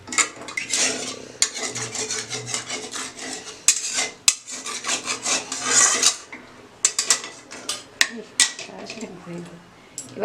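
Spoonful of spice masala scraped from a kadai and stirred into mutton curry being made in a pressure cooker, rasping metal-on-metal scrapes and clinks repeating through the stretch, close and fairly loud, with a person talking over them.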